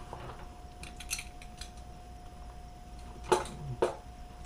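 A metal cutlery set is slid back into a Yugoslavian mess kit, giving light scattered scrapes and clinks followed by two sharper metallic clacks near the end, with no voices.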